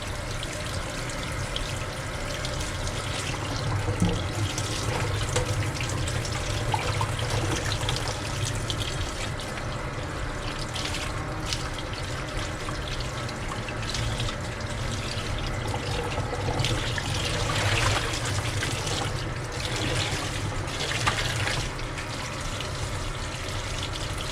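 Hot tap water running steadily over a bullseye tie-dye shirt as it is rinsed, a continuous splashing hiss with small shifts in flow and occasional louder gushes, no voices.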